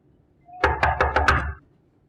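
Four firm, evenly spaced knocks on a closed bedroom door, loud and close, with nothing else around them.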